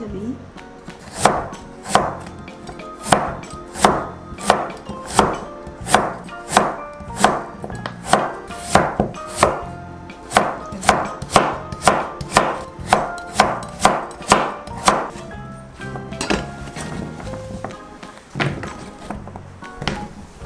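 A knife chops vegetables on a cutting board for beef and radish soup, giving a long run of sharp, evenly spaced thunks at a steady, brisk rhythm, close and loud, with a brief pause near the end.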